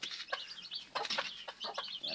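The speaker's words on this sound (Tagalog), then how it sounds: "Yan ang ating mga alagang native chicken" Domestic native chickens cluck and call repeatedly in short, close bursts, with several birds overlapping against a steady outdoor background.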